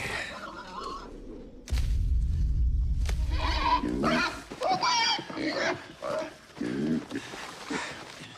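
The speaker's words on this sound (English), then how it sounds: "Sounds like a pig, doesn't it?" Deep, rough animal grunts and snorts, loud and close, repeating in irregular bursts with some higher squealing calls mixed in.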